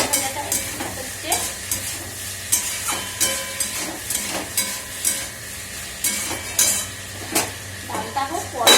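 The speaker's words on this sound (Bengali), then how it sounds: "এই যে সবজি আলু ভাজাটা হচ্ছে" Potatoes and mixed vegetables fry in a pan at home, a loud continuous sizzle with rhythmic metal spatula scrapes and clinks against the pan throughout.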